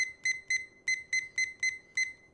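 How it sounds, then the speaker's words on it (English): A household egg timer rings in a quick irregular run of about nine bright, shrill electronic beeps, some in close pairs, loud and alone over a faint steady hum. "We haven't had the pleasure of hearing my irritating egg timer yet this morning."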